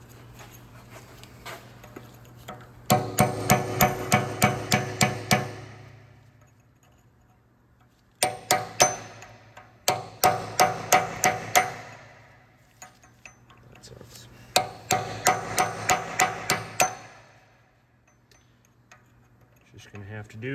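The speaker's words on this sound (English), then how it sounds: "So these get hammered in so that the nut can't back off" Metal hammer blows strike to unstake the axle nut on a 2015 BMW 535d AWD during a rear wheel bearing job, coming in three rapid bursts of sharp, ringing taps separated by quiet pauses.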